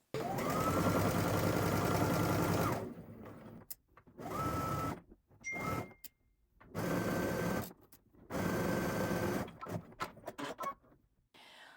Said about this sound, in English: We're gonna stitch around using a 1/4 inch seam allowance.